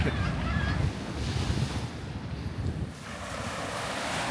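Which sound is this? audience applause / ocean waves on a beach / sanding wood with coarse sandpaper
ocean waves on a beach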